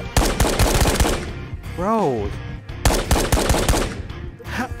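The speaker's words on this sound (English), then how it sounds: "Listen to the gun work." Loud, close automatic gunfire in the shooter video game Ghosts of Tabor, two fast rattling bursts with a pause between them, plus a brief spoken word.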